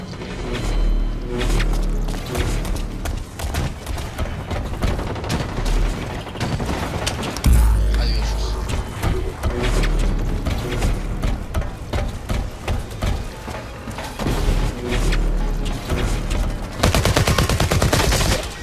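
Gunfire in the video game BlackLight Retribution, dense rapid automatic bursts and loud shots firing nearly nonstop with occasional heavier booms, close and loud throughout.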